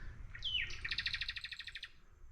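A black bird sings in a tropical food forest, giving one clear rising whistle followed by a rapid trilled run of bright notes, close and alone over faint low background rumble.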